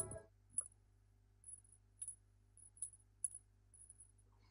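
Faint small metallic clicks and taps, as of a metal ball rolling and dropping inside a puzzle, come irregularly over quiet low hum after a brief initial clatter.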